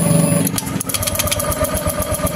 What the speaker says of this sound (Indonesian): kita coba nyalakan lagi, kita coba starter lagi